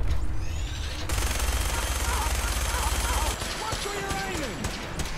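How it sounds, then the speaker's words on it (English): Rapid gunfire in Fallout 4 rattles loudly and continuously over battle noise, with a brief lull partway through and someone talking over it. "Oh, I'm shooting my own guy."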